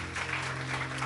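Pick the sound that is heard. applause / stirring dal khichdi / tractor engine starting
applause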